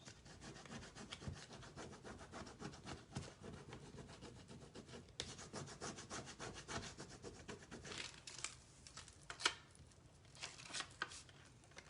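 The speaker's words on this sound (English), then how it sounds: "We just put him right back down, and we just continue to burnish." Rubbing and burnishing strokes press an ES rub-on transfer onto a surface, a steady close scraping friction that continues throughout, growing more uneven near the end with a few sharper strokes.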